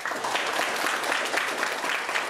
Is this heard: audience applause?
yes